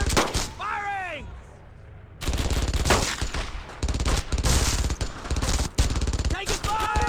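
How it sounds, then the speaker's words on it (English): Gunfire in the Brothers in Arms: Earned in Blood World War II shooter, dense bursts of rifle and machine-gun shots crackling near and far, with shouted voices breaking in between volleys. "Lot of fire picking up here!"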